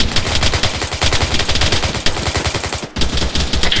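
Heavy sustained gunfire in the military video game ARMA 3, dense overlapping machine-gun bursts, loud and close, with a brief break near the end before the firing resumes.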